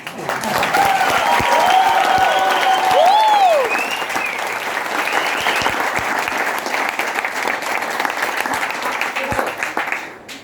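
An audience at an indoor leadership seminar in Nallasopara bursts into loud, sustained applause and cheering for about ten seconds, with whistles rising over the clapping before it gradually thins out.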